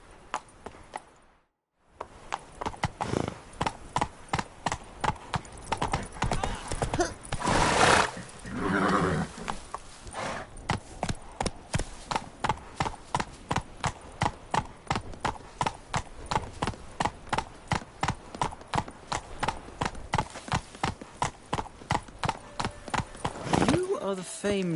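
A horse gallops steadily in The Witcher 3, rapid rhythmic hoofbeats running for most of the stretch after a brief start, with a neigh early on and voices speaking over the hooves.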